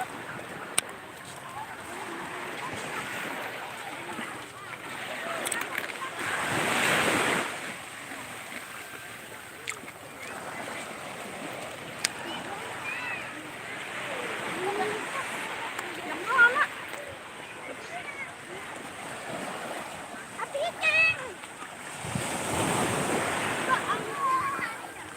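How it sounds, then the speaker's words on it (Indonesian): Sea waves at Nipah beach wash in continuously, with two fuller surges rolling up on the shore. Wind and faint voices sit in the background. "Suara airnya bening."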